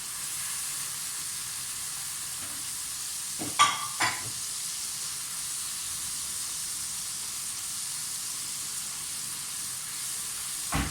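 Ground cumin, coriander, turmeric and garam masala fry in a pan with a steady even hiss, broken once by a couple of brief utensil knocks partway through.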